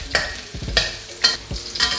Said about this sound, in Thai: อันนี้ก็ผัดจนมันมีกลิ่นหอม ตัวนี้ใครจะเปลี่ยนเป็นเห็ดตัวอื่นก็ได้แต่ว่าเห็ดหอมมันก็ถ้าไปผัดกับน้ำมันมันก็ทำให้มีกลิ่นหอม